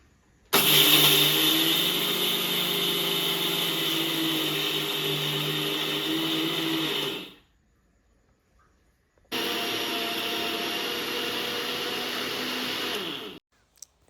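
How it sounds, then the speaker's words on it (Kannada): A kitchen mixer grinder whirs loudly, grinding sugar with cardamom pods in two bursts, a steady high motor roar of about seven seconds, a short pause, then about four more seconds before it cuts off. "ಎರಡು ಕಪ್ನಷ್ಟು ಸಕ್ಕರೆ ಹಾಕ್ಕೊಂಡು ಒಂದು ನಾಲ್ಕು ಏಲಕ್ಕಿ ಹಾಕ್ಕೊಂಡು ಅದನ್ನು ಮಿಕ್ಸಿ ಮಾಡ್ಕೋಬೇಕು"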